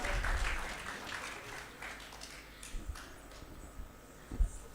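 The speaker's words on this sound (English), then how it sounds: "Please give a huge round of applause." Applause from an audience honoring the chief guest, Mayor Sulochana Das, at an education course event, a dense, moderate wash of clapping that fades out with a few sharper thumps near the end.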